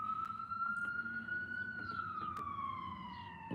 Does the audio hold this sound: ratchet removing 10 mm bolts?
no